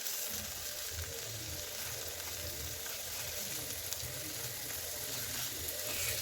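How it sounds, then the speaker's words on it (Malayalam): Tomato, garlic, ginger and green chilies sauté in a pan for a spicy homemade crab curry, giving a soft, even sizzling hiss that runs low and unbroken. "ഇത് നല്ലതുപോലെ ഒന്ന് വഴറ്റിയെടുക്കുക"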